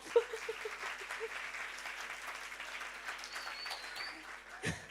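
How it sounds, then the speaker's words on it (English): Audience members at a book launch clap in soft, scattered applause, faint and a little distant, with some faint talk and light background noise mixed in. "Can we please clap?"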